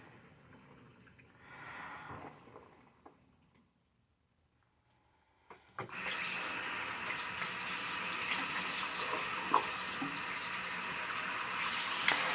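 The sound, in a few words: water draining and refilling in a sink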